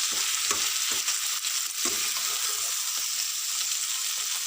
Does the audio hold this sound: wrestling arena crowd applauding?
no